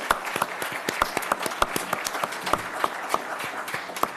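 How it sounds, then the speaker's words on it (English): Steady applause from an audience at a school board meeting, many hands clapping at once in a dense, continuous patter with sharper individual claps standing out. "let's give her a round of applause"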